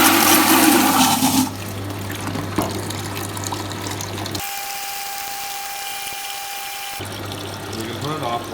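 Sterilizer liquid is emptied under pressure from a Whoopee ice cream machine into a held bucket: a loud rushing, gushing flow at first, then quieter sputtering and a steady tone, with a low mechanical hum.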